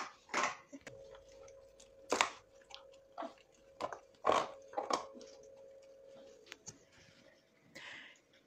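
A dog works food out of a slow feeder with a series of close, sharp clacks and crunchy bites, irregular bursts separated by short pauses, along with faint licking and a steady tone in the background.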